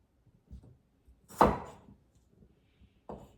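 A knife cuts potatoes on a board in a home kitchen: a few sparse, quiet taps, one loud solid thunk in the middle, and another firm chop near the end, with near silence between.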